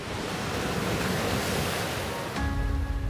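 Ocean waves and surf roll in at Elliston beach in a constant, full roar of breaking water, then the sound shifts abruptly near the end to a lower, heavier wash.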